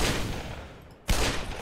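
A magnum revolver in the Black Mesa video game fires a single loud, sharp shot near the end, after a long fading tail from an earlier blast.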